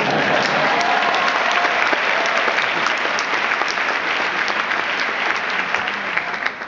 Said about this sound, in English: Join me in a round of applause for the most good-looking Penn LLM class of all times.